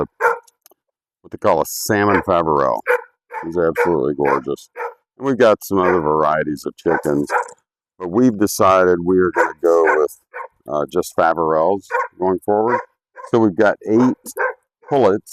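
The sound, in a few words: dog barking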